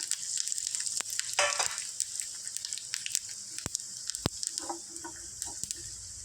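Chana dal, urad dal and cumin seeds fry in hot oil for tempering, giving a close, crackling sizzle with sharp pops scattered throughout and occasional stirring.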